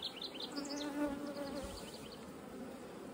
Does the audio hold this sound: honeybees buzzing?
yes